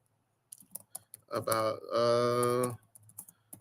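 Someone types on a new computer keyboard whose keys feel a little weird, producing scattered clicks and taps at the start that are soon overtaken by someone talking loudly and at length.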